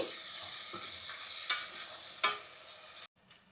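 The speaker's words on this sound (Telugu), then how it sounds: "ఒలిచి పెట్టుకున్న వెల్లుల్లి రెబ్బలు అయితే వేస్తున్నానండి ఇవైతే ఒక గుప్పెడు వేస్తున్నానండి పులుసులో ఇవి ఉడికితే చాలా టేస్ట్ వస్తుంది ఈ వెల్లుల్లి కూడా కొంచెం ఫ్రై అవ్వాలండి" Peeled garlic cloves fry in a curry pan for an egg pulusu, a soft steady sizzle with a couple of sharp stirring scrapes and a brief drop out near the end; no voices.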